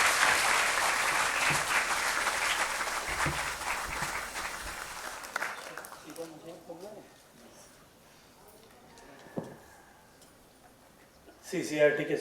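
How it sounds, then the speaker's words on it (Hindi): An auditorium audience claps to welcome the Minister of Culture & Tourism at the CCRT campus in New Delhi. The steady applause lasts about five seconds and fades, followed by quieter voices and scattered small noises. "कृपया सर का तालियों से स्वागत करें।"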